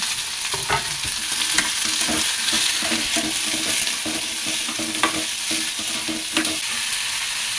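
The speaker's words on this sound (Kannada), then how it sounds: "ಈರುಳ್ಳಿ, ಟೊಮೆಟೊ, ಬೆಳ್ಳುಳ್ಳಿ, ಶುಂಠಿ, ಚಕ್ಕೆ, ಲವಂಗ, ಕೊಬ್ಬರಿ ಇದೆಷ್ಟೂ ಬಾಣಲಿಗೆ ಹಾಕ್ಕೊಂಡು ಹುರ್ಕೊತಾ ಇದ್ದೀನಿ ಮಸಾಲೆಗೆ" Onion, tomato, garlic, ginger, cinnamon, cloves and coconut roast in a pan for masala, sizzling steadily up close while a spatula scrapes and stirs in a rhythmic pattern.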